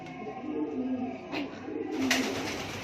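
A sick blue pigeon with a harsh cough gives two short, low throaty sounds a little over a second apart, faint and close against a quiet background.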